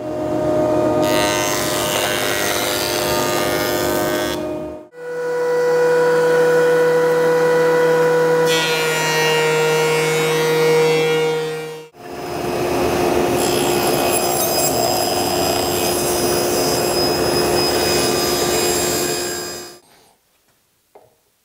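Woodworking machinery mills lumber for a display case in three long, loud continuous passes of steady cutting noise, separated by brief pauses, ending abruptly.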